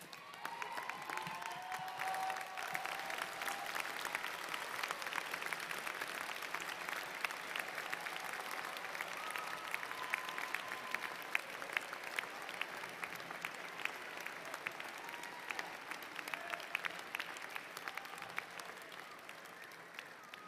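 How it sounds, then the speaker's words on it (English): Graduates and guests applaud together at a university commencement ceremony, a steady wash of many hands clapping that rolls on evenly and slowly eases off at the end. "please rise and applaud those who helped you arrive here today"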